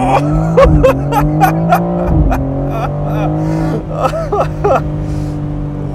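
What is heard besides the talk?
BMW M4 Competition Convertible launch-control acceleration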